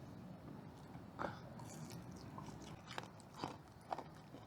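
Close, quiet crunching bites and chewing on crisp breakfast food at an outdoor campsite, a few distinct crunches standing out over soft mastication, with no talking.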